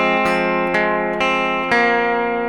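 Electric guitar plays the opening two measures of a song with alternate picking, four sustained, clearly separated plucked notes ringing alone and close.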